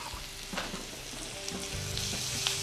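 Onions frying with ginger-garlic paste for dhaba-style aloo gobi fry, stirred in a pan: a steady close sizzle with scraping stir strokes and faint utensil clinks, no voices.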